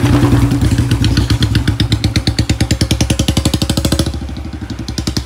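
A Royal Enfield Bullet 350 single-cylinder motorcycle engine thumps close by in a loud, even beat that steadies and eases toward idle near the end.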